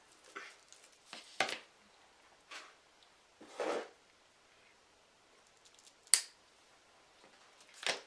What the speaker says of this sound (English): And I hope these scissors will cut it.